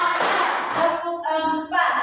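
Hand claps in a rhythmic classroom clapping game, a group clapping a counted pattern together at close range, mixed with voices chanting along.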